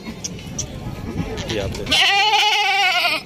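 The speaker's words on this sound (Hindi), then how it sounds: "बर्बरी ब्रीड की बकरी खड़ी है" Barbari breed goat at a goat market, bleating loudly and clearly in a long wavering call near the end, preceded by someone talking nearby amid crowd noise.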